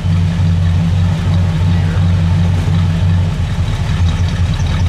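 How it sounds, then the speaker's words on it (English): A 1966 Buick Wildcat Custom Gran Sport convertible's big engine idling close by, a loud, steady low rumble with a regular pulsing beat that continues throughout with no talk. "let me listen to it idle"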